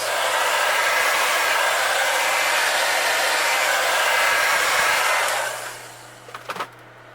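A heat gun blows a steady, loud rushing whoosh while heat-setting paint on a bluegill fishing lure, running for about five seconds before switching off, followed by a few faint handling clicks.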